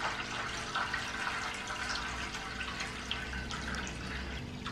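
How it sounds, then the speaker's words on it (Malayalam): Water poured off settled arrowroot starch into another vessel trickles and splashes softly and continuously, faint and close with no voices. "അപ്പം നമുക്ക് ഈ വെള്ളം വാർത്ത് കളയാം."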